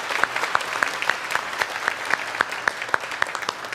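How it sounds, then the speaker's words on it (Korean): Congregation at a Sunday worship service applauding to welcome first-time visitors, a steady wash of hand claps with sharper individual claps standing out in a fairly regular rhythm, moderately loud and sustained throughout. "박수로 환영하겠습니다"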